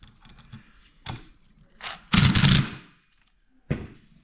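A power tool on a low setting tightens bolts on a crazy cart front wheel, giving a few short, close rattling impact bursts separated by quiet gaps.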